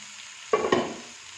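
Butter-garlic broccoli frying in a pan, heard as two quick, close stirring scrapes with a burst of sizzle over quiet surroundings.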